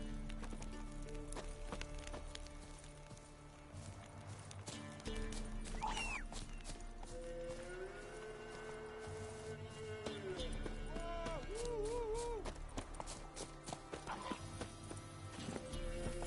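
Roach, the horse in The Witcher 3 on PS4, clip-clops steadily at a gallop under ongoing game music and ambience, with a neigh or whinny breaking through midway.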